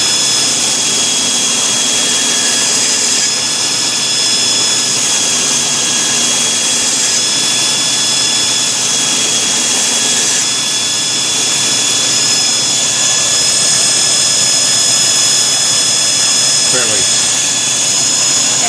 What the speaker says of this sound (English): I'll start working the bevel pin, and then I'll bring this in with a J-flex belt